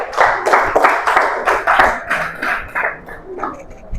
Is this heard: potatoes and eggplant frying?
no